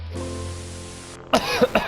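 A low steady hum, then a few short, harsh coughs close to the microphone near the end.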